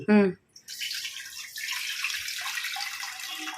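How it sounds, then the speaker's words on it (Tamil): After a brief voiced sound, rice-washing water pours steadily into a cooking vessel with a soft splashing hiss that continues to the end. "அரிசி கலஞ்ச தண்ணி ஊத்திட்டா."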